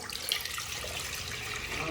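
Tap water running into a pot in a home kitchen while rice is being prepared, a steady splashing flow heard close up on its own throughout the short stretch.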